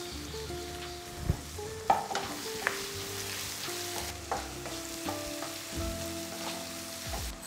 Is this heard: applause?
no